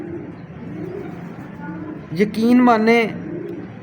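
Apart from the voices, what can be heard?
female racing pigeon cooing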